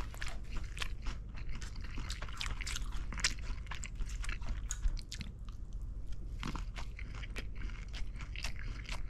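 Crisp, repeated crunching and chewing of fried chili pepper (gochu twigim) at a tteokbokki snack meal, close and fairly loud, with irregular bites throughout and no talking.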